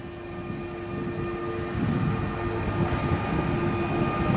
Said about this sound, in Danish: Her har vi IR4-toget.